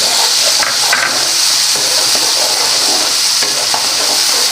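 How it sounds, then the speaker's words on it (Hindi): Loud, steady sizzling of ground green chilli and garlic paste frying in a hot pan, with occasional stirring scrapes and no talking. "अब इसको फ्राई करेंगे।"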